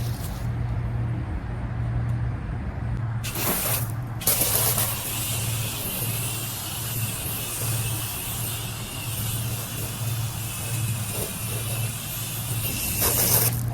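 Continuous hiss of a water spray rinsing foam off a car, steady and fairly close, with a brief break partway through before the spray resumes.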